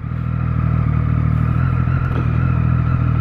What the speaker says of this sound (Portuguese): vejamos motos, muitas motos